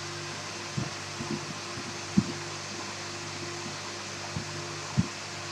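A woodworking dust extractor runs steadily and pulls air through its port and arm with a constant rushing hum, broken by a few faint clicks and knocks in a shop. No voice is heard.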